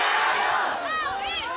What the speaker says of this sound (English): Crowds cheered as 208 runners undertook the 28-kilometer relay